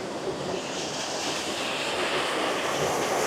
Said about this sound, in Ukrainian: Тобто насолоджуємося цим водоспадом.